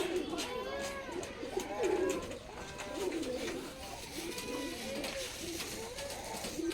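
Rajshahi Giribaz pigeons cooing in a loft, repeated soft throaty coos overlapping one another at moderate distance, with faint background noise and occasional quiet voices.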